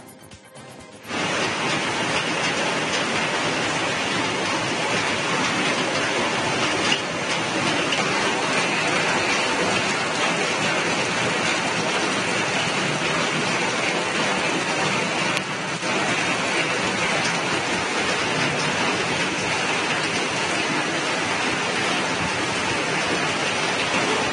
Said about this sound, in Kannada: ದಾವಣಗೆರೆಯಲ್ಲಿ ನಿನ್ನೆ ರಾತ್ರಿ ಭಾರಿ ಮಳೆ ಆಗಿದೆ